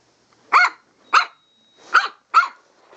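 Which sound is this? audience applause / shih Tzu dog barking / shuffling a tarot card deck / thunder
shih Tzu dog barking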